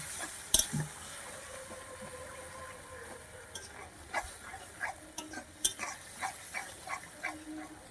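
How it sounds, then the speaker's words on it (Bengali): Spice masala with salt and Kashmiri chilli powder stirred and fried in a pan for a soyabean muri ghonto, giving soft scraping strokes and faint sizzle with scattered louder clinks, close and moderately quiet, no talking. "মশলাটা আমি কষিয়ে নিই।"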